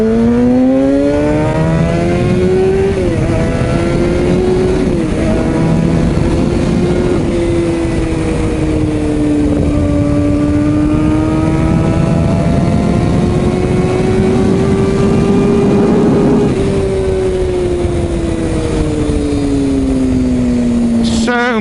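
A Kawasaki ZX6R sport motorcycle is ridden under sustained throttle, its engine whine climbing and dipping through gear changes, loud and continuous with wind rush behind it.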